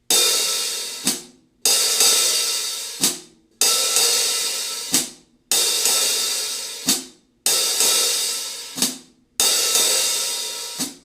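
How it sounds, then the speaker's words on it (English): Slow jazz time on a drum kit with the cymbals left to rattle together open: six long, bright, washy strokes in a steady rhythm, each ringing loudly and then cut off sharply, with brief silences between them. "You actually want to get it so the cymbals are rattling together on the open sound."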